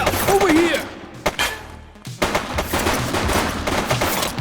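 Gunfire from a shooter in the video game The Precinct, loud bursts of rapid shots and sharp cracks close by, mixed with shouting voices and a brief lull before the firing resumes.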